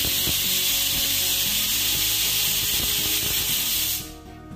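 A pressure cooker holding Kerala beef pepper roast lets out a loud, continuous hiss of steam that stays steady for several seconds, then cuts off abruptly near the end.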